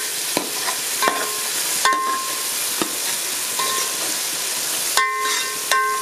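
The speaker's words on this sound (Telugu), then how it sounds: "కరివేపాకు, పచ్చిమిర్చి వేసి వేగనివ్వాలి." Curry leaves and green chillies frying in a pan for Andhra-style Nellore fish curry, a steady sizzle broken by sharp scraping stirs and clinks of a spoon against the pan, close and without talk.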